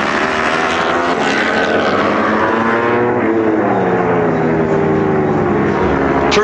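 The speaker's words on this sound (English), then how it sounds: "terrific mixed bark from these three engines together" Three superbike racing motorcycle engines at Valencia roar together in a loud, mixed bark, with pitch sweeping upward and shifting as the bikes pass and accelerate, with no voices.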